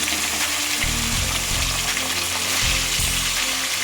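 Fish pieces fry in mustard oil in a wok, a steady close sizzle and crackle that swells in bursts as each piece goes in, with no talking.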